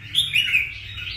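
A caged songbird under test gives a brief, bright series of three or four close chirps followed by a sustained tweet, loud and clear with no talk.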